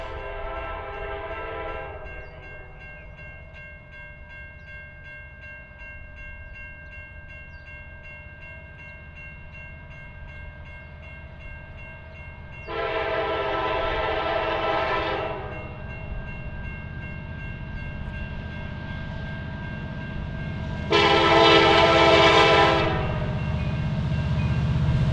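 A CSX freight train rolls past on a Class 1 railroad line, its steady rumble and rail noise continuous throughout, with three loud horn blasts, one short at the start and two longer ones later, sounding near and clear.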